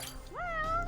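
A cat meows once in the video game Judgment, a rising then level drawn-out call, close and clear over a faint low background hum.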